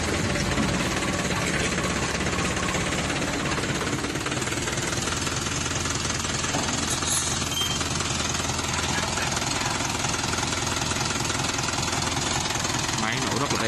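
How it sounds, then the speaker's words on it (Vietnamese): An Iseki 505 tractor engine idles with a loud, steady knocking rattle that runs unbroken throughout, while a voice talks over it. "Máy nổ rất là êm."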